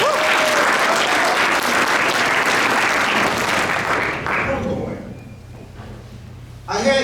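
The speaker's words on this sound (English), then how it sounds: "So give yourself a round of applause." An audience at a book-reading kick-off event breaks into loud, sustained clapping that thins out and fades toward the end, followed by a brief final burst.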